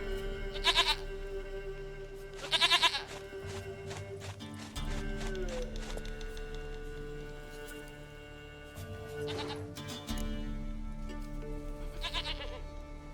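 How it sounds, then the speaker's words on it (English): Goat bleats in The Witcher 3, a few short nasal calls standing out over a layered game soundtrack with steady low drones and ambient tones. "Goat of mine, dearest, sweetest goat."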